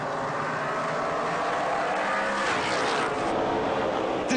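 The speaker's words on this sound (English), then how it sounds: "Love hearing those NASCAR Pinty Series engines" NASCAR Pinty's Series race cars roar down the back straightaway, a loud continuous engine drone that swells as cars pass close by.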